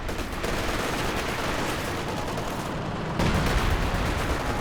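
A creeping artillery barrage in Company of Heroes 2, dense continuous rumbling gunfire and explosions in a steady loud wash with a heavier burst near the end.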